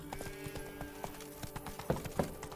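Horse hooves clip-clop at a steady trot-like gallop in The Witcher 3: Wild Hunt, Blood and Wine, a quiet, even rhythm of close hoofbeats with a couple of heavier thuds near the end.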